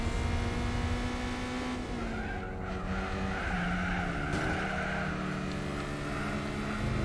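A car drifting in Gran Turismo 4: steady engine drone with a sustained tire squeal sliding in pitch, continuous and fairly loud, no talk.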